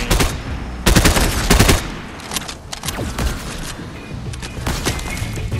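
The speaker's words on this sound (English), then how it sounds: "we're getting shot at by multiple people" Rapid bursts of gunfire from several shooters in the Fortnite video game, loud and close at first, then scattered shots trading back and forth at varying distances across the match.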